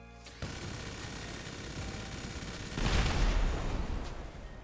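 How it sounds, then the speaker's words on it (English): A helium-filled blimp blows up in GTA 5, with a sharp onset, then a rolling rumble that swells into a loud, deep blast about three seconds in before fading into sustained debris noise. "That was a big explosion,"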